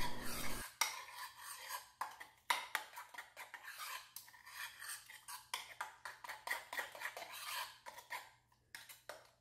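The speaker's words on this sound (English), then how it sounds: "We want to get it all nice and mixed up." Creamy parmesan salad dressing is whisked in a bowl, producing rhythmic scraping and clinking strokes of utensil against the bowl, repeated many times with brief pauses, fairly close and quiet.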